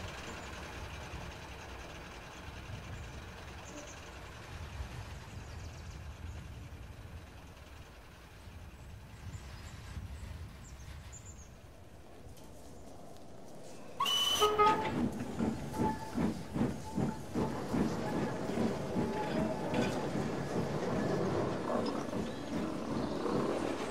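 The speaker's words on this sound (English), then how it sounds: "BoCo rolled out of the yard for his long journey home." A heavy diesel engine rumbles and hisses, then grows louder midway with rhythmic clanking of rail wheels as the locomotive pulls away.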